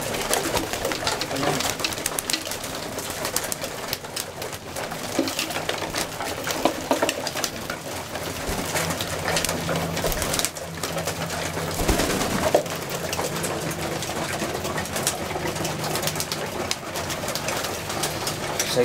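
Racing pigeons being prepared for the 2021 young-bird race season coo steadily while feeding in their loft, a dense, continuous murmur of many birds close by, with no talking.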